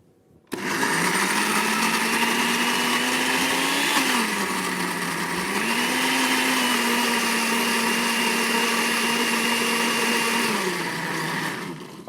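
A blender whirs steadily for about eleven seconds, mixing mushroom stuffing with olive oil for a stuffed poultry ballotine, its motor pitch dipping briefly midway before settling, loud and close with no talking.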